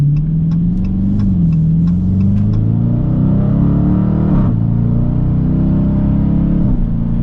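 A 2023 Dodge Challenger R/T engine revs loudly and close, with a deep rumbling note that rises and falls across several throttle blips and no talking over it.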